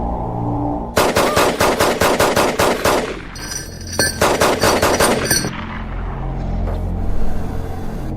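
Rapid automatic gunfire in a Hindi-dubbed Hollywood horror movie comes as two loud, fast bursts of evenly spaced shots, with a low rumble continuing after the shooting stops.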